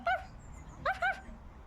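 A dog gives a couple of short, high whimpering yips, close and fairly loud, with a brief pause between them and no talk.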